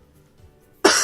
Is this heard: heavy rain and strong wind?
no